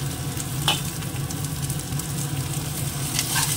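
Onion and tomato fry in a pan with a constant close sizzle and occasional stirring scrapes, steady from start to finish.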